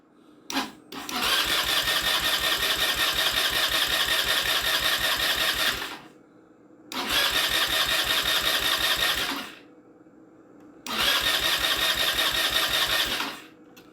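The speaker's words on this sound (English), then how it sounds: "now you're going to listen for the engine to start" A GY6 150cc scooter engine is cranked three times in long, rapid, rhythmic churning bursts separated by short pauses, up close.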